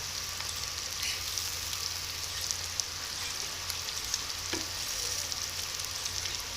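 Tomato paste cooks into frying spices with a soft, even sizzle and light bubbling, accompanied by occasional faint taps of a spoon against the pot.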